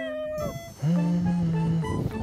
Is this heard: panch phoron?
no